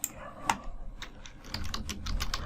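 Fingers type text on a computer keyboard, a quick run of close, crisp key clicks that grows denser toward the end.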